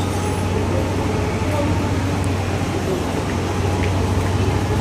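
Buses idle in a queue at a Hong Kong bus stop, a steady low engine rumble with broadband street noise running continuously and fairly loud throughout.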